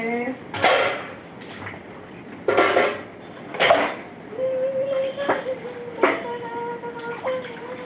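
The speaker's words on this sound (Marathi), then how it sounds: "मी भांडी घासते." Utensils are scrubbed and washed at home, with three sharp clattering bursts of metal pots and dishes knocking together, followed by a person talking over softer handling.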